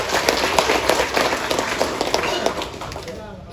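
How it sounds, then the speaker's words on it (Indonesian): An audience applauds at a peace declaration of regent candidates held by the Tana Toraja police. Brisk clapping rings out loudly for a few seconds, then thins and fades near the end. "tepuk tangan untuk kita semua."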